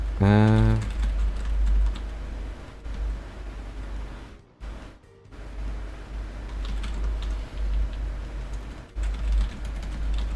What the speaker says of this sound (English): Sorry that you can hear all of my typing.